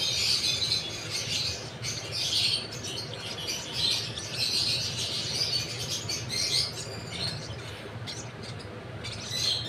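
Hand-fed baby birds at feeding time chirp in busy, high-pitched clusters over a steady low rumble of room noise, the cheeps coming repeatedly throughout.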